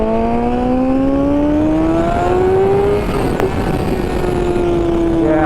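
A 2021 BMW M1000RR motorcycle with a BT Moto ECU flash accelerates hard, its engine note climbing steadily through the revs with a quick shift partway through, loud and close from the rider's position, no talk.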